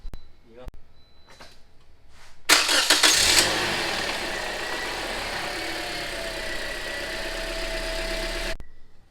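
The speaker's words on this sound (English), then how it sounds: "So I'm going to go ahead and start the vehicle up for about 20 seconds." A 2009-2013 Toyota Corolla engine cranks briefly after some clicks and handling noise, catches with a loud roar, then settles into a steady idle that runs for several seconds before cutting off.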